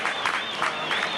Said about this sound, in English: Richard Webster earning deserved applause from the Salford fans for a superb effort from him in his first game